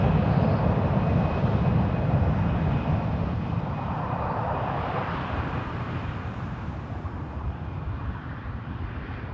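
A jet airliner landing at Frankfurt Airport gives a broad, steady roar heard from a distance, holding level and then slowly easing off.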